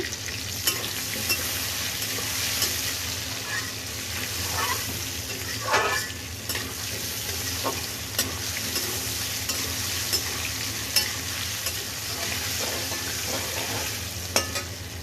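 Frying and stirring in an oiled pan with a little turmeric for an aloo potol recipe: steady close sizzle with intermittent scraping stirs and light clinks throughout, no talk.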